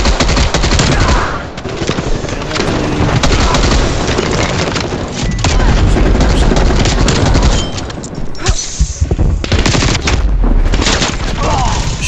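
Sustained, loud gunfire in Call of Duty: Black Ops Cold War, rapid automatic bursts and heavy booms rolling continuously over twelve seconds, with a voice faintly mixed in.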